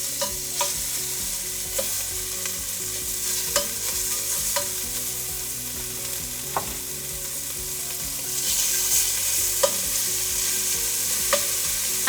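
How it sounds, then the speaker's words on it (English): Pork cubes searing in a hot skillet for pork chili verde, a loud continuous sizzle punctuated by regular sharp clacks of stirring and scraping, close up with no talk. "It's nice and hot, so we're gonna get a nice sear on all these pork cubes."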